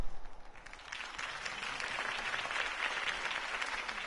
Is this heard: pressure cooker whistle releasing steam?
no